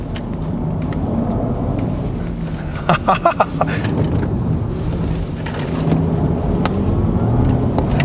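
A Porsche 911, Taycan or Panamera drives on a race track, with a steady low rumble of driving and road noise throughout, broken by a short burst of sharp clicks or knocks midway.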